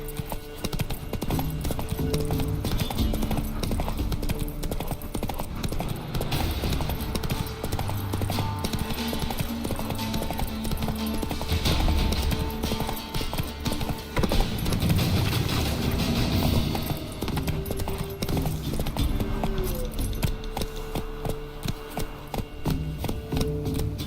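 A horse's hooves clip-clop steadily through the whole stretch in The Witcher 3: Wild Hunt, with an occasional whinny and a constant bed of game music and ambience. A brief voice comes in over it.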